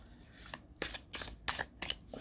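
A deck of tarot cards being shuffled in several quick riffling bursts, close and crisp, with brief pauses between each riffle.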